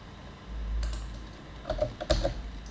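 A few quick clicks of typing on a computer keyboard while entering a search in a cloud console, soft and close, with small irregular keystroke bursts against a quiet room hum.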